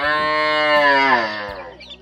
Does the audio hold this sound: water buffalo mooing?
yes